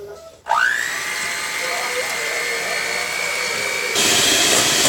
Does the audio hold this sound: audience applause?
no